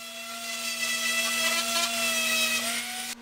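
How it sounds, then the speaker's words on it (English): A power sander smooths the face of a wooden shop sign, producing a continuous steady drone with a light abrasive hiss that wavers gently before cutting off at the end. "Sand the surface smooth."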